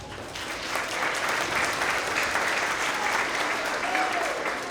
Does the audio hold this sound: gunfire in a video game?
no